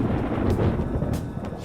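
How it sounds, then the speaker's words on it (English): Rumbling thunder in the Persona 5 Royal video game, a low, continuous roll with soft rain-like hiss above it, steady and fairly loud throughout a short stretch with no talking. "It sounds like it's going to rain."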